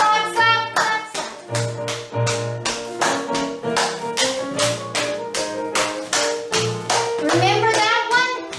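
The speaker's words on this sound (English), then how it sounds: "2, 3, 4, clap, slap, clap, slap." Rhythmic hand claps and slaps in a seniors' brain-fitness exercise class, sharp regular beats over several seconds in a steady counted pattern, close and loud, with an instructor's voice calling along underneath.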